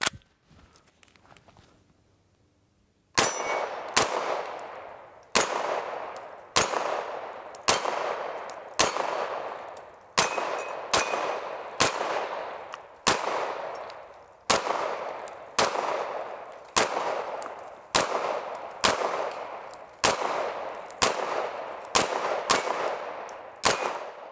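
Repeated loud single gunshots from a Century Arms AP5-P, an MP5-style pistol clone, with its brace folded, fired at a steady pace of about one shot every second after a few quiet seconds; each crack rings out and decays, no talking.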